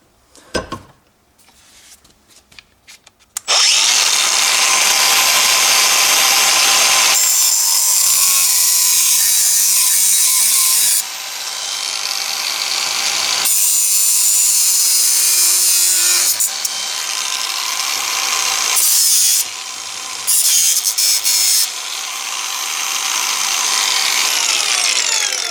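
A power tool cuts through a broken plastic car mask grill, starting after a few quiet handling knocks, then running loud and continuous with short pauses and shifts in pitch as the blade bites, close up with no talking.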